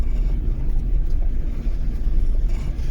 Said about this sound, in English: We're now driving back towards where we are.